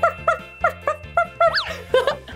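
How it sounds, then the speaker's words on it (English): A small cartoon puppy in a children's educational game yips repeatedly in short, evenly spaced barks, ending with a rising whimpering cry, clear and close with no talking. "this one has a little puppy dog"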